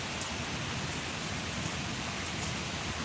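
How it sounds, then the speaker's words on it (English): Rain falling in a steady, even hiss with no breaks, fairly soft and close throughout. "I'm telling y'all, this rain"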